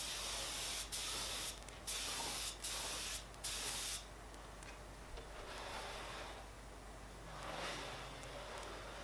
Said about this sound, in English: spraying him in with furniture lacquer